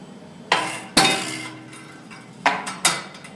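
An Izod impact tester's hammer released to strike and break a specimen: a sharp metallic snap and clink near the mic, followed by a few more short knocks and rattles as the brake is applied.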